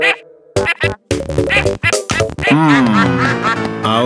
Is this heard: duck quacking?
yes